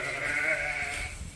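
A single drawn-out bleat from a sheep in a flock of Suffolk and Dorset ewes, close and fairly clear, fading at the end.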